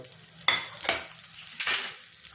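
A spoon stirs broken wheat (dalia) as it roasts in ghee in a pan. Close, steady sizzling is broken by a few louder scraping strokes across the pan.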